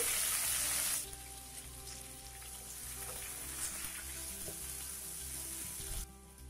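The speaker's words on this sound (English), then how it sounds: "After adding onions, saute for a minute." Chopped onions sauté in hot oil with dark golden cumin seeds for a dal tadka, giving a soft, even sizzle with faint stirring clicks; a brighter burst of hiss opens it, then settles.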